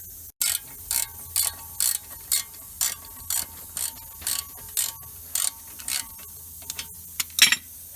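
A ratchet with an extension loosening the brake caliper bolts on a 2008 BMW 328i, giving rapid bursts of close, crisp clicking repeated in a regular rhythm with short pauses between strokes.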